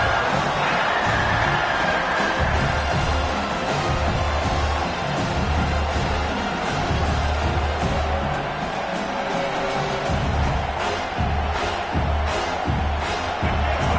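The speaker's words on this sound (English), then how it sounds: "And here comes the noise. This crowd is trying to inspire this defense to make a big red zone stop." A large stadium crowd in the College Football 26 video game roars steadily throughout, a dense wash of cheering and yelling that swells in places, with deep rumbling underneath, as the defense faces a red zone stand.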